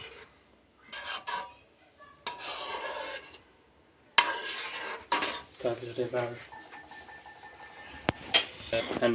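A spoon stirs a sugar mixture in a metal pot in an Assamese kitchen, giving bursts of scraping and clinking against the pot with short quiet gaps in between.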